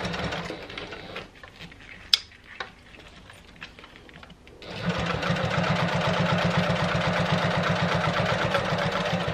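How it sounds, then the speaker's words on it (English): A Janome HD9 sewing machine top stitches fabric, starting after a few light handling taps and then running in a steady, fast, even needle rhythm that stays loud and close for several seconds. "I'm just top stitching, making sure I line up my edges so that it's nice and neat."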